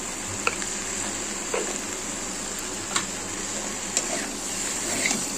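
Hilsa fish head frying with cumin and chili powder in a pan, a soft continuous sizzle with occasional light ticks of a spoon, close and steady, no talk.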